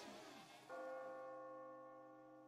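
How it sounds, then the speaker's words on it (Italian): A purifying bell in the video game Yo-kai Watch 3 strikes once with a loud, resonant toll, its ringing overtones sustaining and slowly fading with no talk. "La campana che purifica tutta Arachidia."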